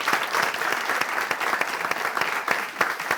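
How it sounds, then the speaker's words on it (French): Audience clapping steadily at a live French talent show semi-final broadcast, a dense patter of many hands with a few sharper individual claps standing out, fairly close and without voices. "Ça s'applaudit, s'il vous plaît, parce que c'est important."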